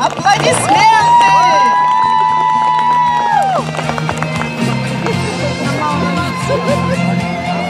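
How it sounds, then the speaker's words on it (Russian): Audience at a winter ice-fishing competition award ceremony in Bratsk district, a loud sustained crowd cheer and applause with music-like tones running through, continuing steadily. "Аплодисменты!"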